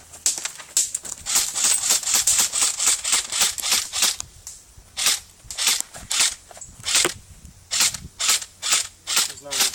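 Airsoft guns, including an M4 and AK-74U, fire in quick bursts and strings of sharp, snappy cracks during an outdoor game, loud and close, with short pauses between volleys.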